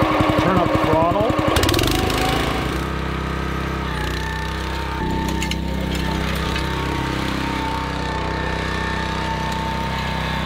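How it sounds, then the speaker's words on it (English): A Honda engine on an ECOLAWN ECO250 top dresser starts with a rapid knocking chatter, then settles into a steady, fairly loud mechanical drone while a person speaks over it. "Okay, nice Honda engine."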